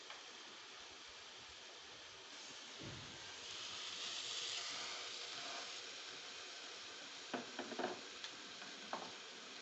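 Bacon frying in a pan, a steady close sizzle and hiss with brief clinks and scrapes near the end, no voices.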